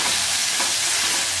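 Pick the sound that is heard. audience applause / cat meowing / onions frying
onions frying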